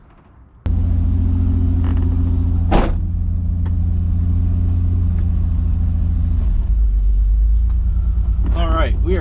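A Fiero kit car's engine fires up abruptly and settles into a loud, steady mid-pitched rumble, with a brief revving swell early on and a lower, deeper drone toward the end.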